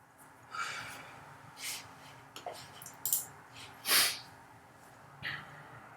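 A deep inhale drawn in through the nose, heard as a few soft breathy surges spread over several seconds, with one stronger intake near the middle, quiet and close, with no talking.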